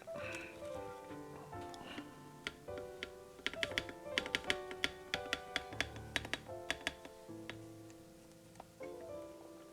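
Keycaps snapped one after another onto a FreeBird60 mechanical keyboard, sharp close plastic clicks coming in quick irregular bursts, densest in the middle, over a faint tonal background.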